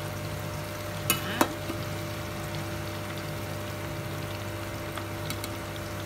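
Sweet potato camote cue frying in hot cooking oil, a steady soft sizzle with a couple of sharp clinks or taps near the start and another faint one later, no talking.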